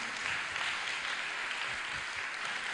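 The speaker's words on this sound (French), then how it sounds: "je crois qu'on peut applaudir Eric" Steady, even applause from an audience after a pitch presentation on the future of libraries, filling the whole short stretch at moderate loudness with no clear breaks.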